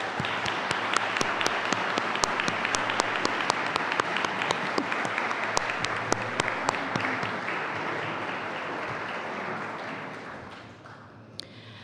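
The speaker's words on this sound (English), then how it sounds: "Please join me in showing our appreciation with a well-deserved round of applause for our outstanding faculty and staff of New York Military." A large commencement audience at New York Military Academy claps in sustained applause for faculty and staff, a thick even roar dotted with sharp individual claps close by, tapering off near the end.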